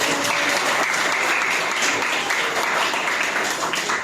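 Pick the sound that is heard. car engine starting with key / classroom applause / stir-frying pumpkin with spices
classroom applause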